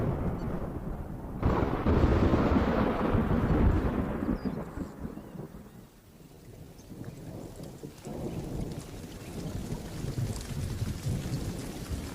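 Thunderstorm over grassland with torrential rain, a steady roar of heavy downpour with thunder rumbling through it, swelling loud early and then easing to a dense, even hiss.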